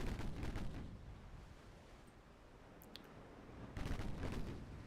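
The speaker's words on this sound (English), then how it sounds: "Torpedo detonation." A torpedo detonation in the naval video game Ultimate Admiral Dreadnoughts, heard as broad rumbling blasts, one burst at the start and another swelling later, under a dull continuous battle roar.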